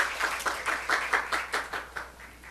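A church congregation clapping in a quick steady rhythm during a Sunday service, a short burst of about a dozen distinct claps at moderate distance, fairly soft.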